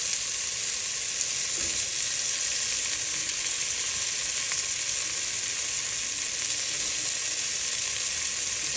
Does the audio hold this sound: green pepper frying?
yes